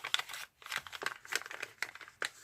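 Paper being folded and creased into a Christmas tree shape, with soft crinkles and rustles coming in quick, uneven bursts close by. The sound is quiet and there is no talking.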